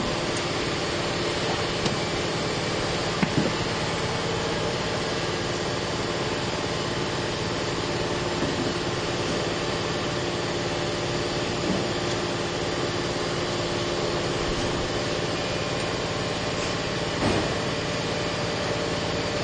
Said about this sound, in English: That's our compressor.